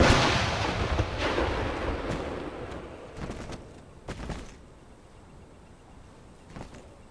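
Cannon artillery fires across a battlefield in the Empire: Total War strategy game, opening with a loud rumbling boom that fades and is followed by a few more scattered, muffled blasts, farther off and quieter, with no talking.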